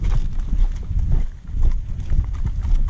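Horse hooves clip-clop along a forest trail in the Pacific Northwest during a ride, a close, continuous shuffling beat of steps with muffled thuds under a breezy background.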